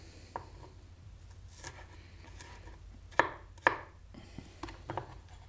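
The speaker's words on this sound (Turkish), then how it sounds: "Önce soğanlarımızı doğruyoruz." Onions being chopped on a board for a Turkish leek dish, heard as a few sharp knife strikes, two louder close chops standing out among softer scattered taps.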